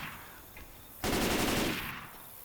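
Submachine gun fire in Left 4 Dead 2, a sustained burst of rapid shots lasting about a second, loud and close, with no talk over it.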